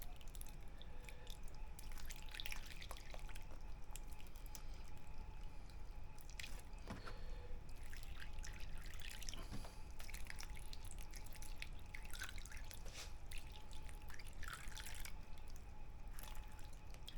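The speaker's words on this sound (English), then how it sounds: "So I'm going to go ahead and water them again. I want that soil nice and wet." Water poured from a gallon jug onto potted sugarcane cuttings indoors, followed by steady soft dripping and trickling as it drains through wet soil, close and quiet for a long stretch with no voices.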